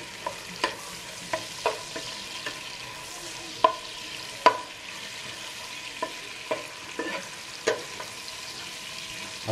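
Onions fry in a pot for chicken bhuna khichuri while a utensil scrapes and stirs them in irregular clicks over a steady low sizzle, close and fairly quiet, with no talking.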